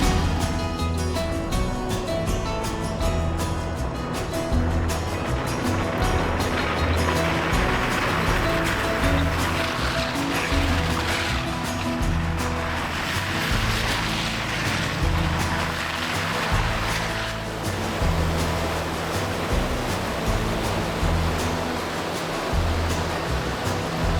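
An overland vehicle fords a wilderness water crossing, with a continuous wash of rushing, splashing water over a low engine drone that runs for the whole stretch and swells partway through.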